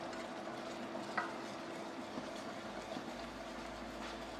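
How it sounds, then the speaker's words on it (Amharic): Porridge being stirred in a pot, a steady scraping and swishing texture with a few soft knocks, close and continuous, with no talking. "እዛው ቂጡ እንዳያዝብን እዛው ወዲያው እናማስለዋለን።"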